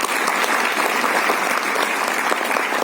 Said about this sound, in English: I think a huge round of applause for all of them.